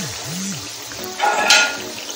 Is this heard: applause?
no